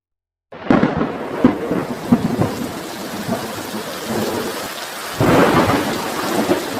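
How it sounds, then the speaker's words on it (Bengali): A heavy thunderstorm on a stormy night in a forest, with dense pouring rain and deep rolling thunder that swells again toward the end, loud and continuous with no voices. "লোকগুলোর সাথে কথা বলতে বলতে বৃষ্টি শুরু হয়ে গেল।"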